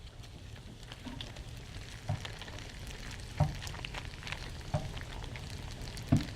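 Onion sizzles and fries steadily in a pan while an ingredient melts in, a soft continuous crackle broken by a few louder taps or stirs at regular intervals.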